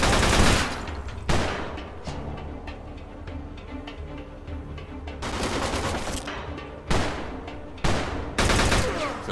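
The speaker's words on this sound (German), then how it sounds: "Sauberer Schuss." Video game gunfire crackles in repeated loud bursts of rapid shots, several dense volleys separated by shorter pauses, like automatic weapons in a firefight, with no talk.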